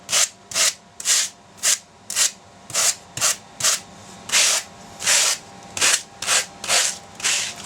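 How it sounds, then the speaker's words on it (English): A welding wire brush rounds off the edges of a rabbit taxidermy habitat piece in quick, regular scrubbing strokes, about a dozen rasping bursts at a steady rhythm, close and loud with short pauses between each. "I use a wire brush and just round them off."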